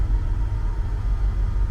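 A Willys truck engine idles at about 700 RPM, a steady low, close rumble with a constant even pulse and no other sounds over it.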